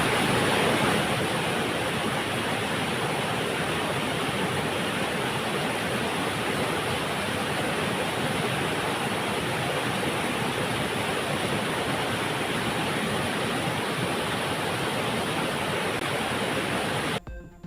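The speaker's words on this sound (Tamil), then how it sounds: "தேனி மாவட்டம் போடி அருகே பெய்த கனமழையால் கொட்டக்குடி, கல்லாறு பகுதிகளில் காட்டாற்று வெள்ளப்பெருக்கு." Floodwater rushes through a forest river near Bodi in Theni district after heavy rain, a loud, steady roar of churning water that holds unbroken almost to the end, with no voices.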